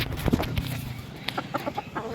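Hens cluck nearby in a few short, uneven bursts during a brief moment of the flock.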